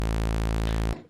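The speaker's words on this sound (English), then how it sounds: "So basic sawtooth sounds like this." A basic single sawtooth wave held as one steady note on a Malström synthesizer, loud, buzzy and static throughout before it cuts off abruptly near the end.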